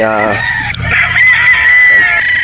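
A rooster at a Batangas game farm crows loudly and close, one sustained, strained call held for nearly two seconds.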